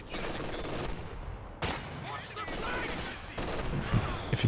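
Machine gun bursts and scattered gunfire crackle through a Company of Heroes 2 battle, a dense continuous din with sharp onsets and distant explosions, under a commentator's voice.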